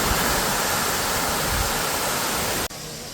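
Devkund waterfall near Mangaon in the Konkan roars as a steady, dense rush of falling water at close range, then drops abruptly to a softer wash near the end, with no voices.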